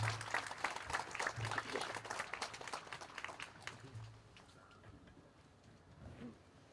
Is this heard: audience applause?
yes